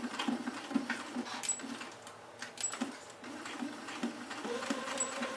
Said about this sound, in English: Now we're going to sew the hem to the other side the exact same way.